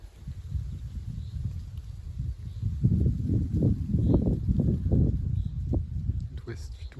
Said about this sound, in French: Vent d'ouest.